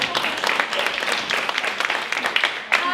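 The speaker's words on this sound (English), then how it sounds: "let's give these guys a big round of applause" Applause from an audience at a makeover challenge show, a short burst of steady clapping at moderate loudness with no speech over it.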